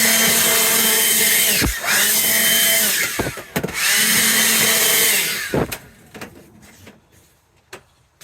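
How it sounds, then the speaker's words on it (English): A leaf blower being cleaned up with outside an apartment roars loud and close in two long sustained bursts with a rising and falling whine, separated by brief pauses and followed by quieter clattering. "I just blasted that leaf blower right in your ear."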